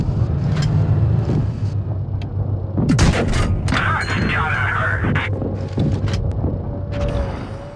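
Tanks firing in a strategy video game, heard as a run of booming thuds and gunfire bursts over steady engine rumble and battle noise, with a voice talking over the whole stretch.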